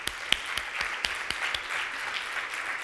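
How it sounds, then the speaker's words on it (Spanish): A conference audience applauds steadily throughout, a dense wash of clapping with a few sharper claps standing out near the front, fairly loud and continuous without a break. "así que démonos un aplauso"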